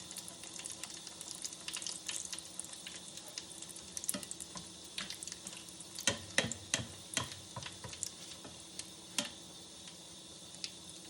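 Donut holes frying in hot oil, a continuous bubbling sizzle with bursts of sharper crackles and spatters near the middle, close and fairly quiet, no voices.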